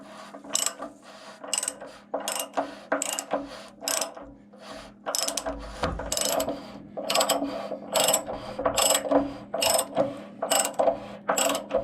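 Repeated ratchet clicking as a ratchet wrench tightens an anode rod into a water heater, the quick pawl bursts close and crisp in a steady rhythm across the whole stretch, with no talk.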